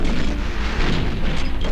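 A big gun fires in a World War II game set around relieving Leningrad, a dense, rumbling boom that fills the short moment with heavy low-end noise.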